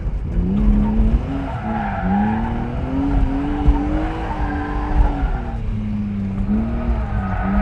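Rear tires of a BMW E36 M3 slicktop squealing as the car slides through corners on a racetrack, a loud, wavering screech riding over the engine's roar, sustained for several seconds without speech.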